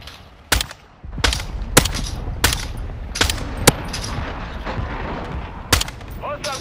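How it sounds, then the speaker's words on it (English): Friendly mortar strike in Call of Duty: Modern Warfare II, a string of sharp, loud blasts and impacts at irregular intervals over a rumbling battlefield bed. "Friendly mortar strike on the way."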